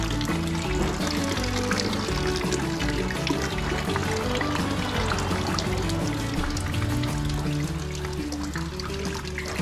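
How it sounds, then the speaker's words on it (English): Water runs and trickles steadily, a continuous liquid pouring and draining sound with a busy, gurgling texture throughout, close by and fairly loud. "as I let that water drain a little bit"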